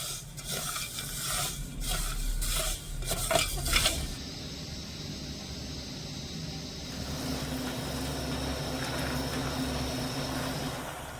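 Sugar and water get stirred in a pan to melt the sugar: a few seconds of metallic spoon scraping and clinking against the pan, then a quieter low simmering hiss.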